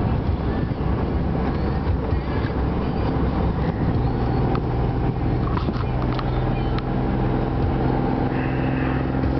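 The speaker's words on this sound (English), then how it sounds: "So I'm going to drop a gear right here." A truck on a downhill grade drops a gear, its heavy diesel drone and drivetrain rumble staying loud and continuous in the cab, with a shifting whine of tones and faint rattles throughout.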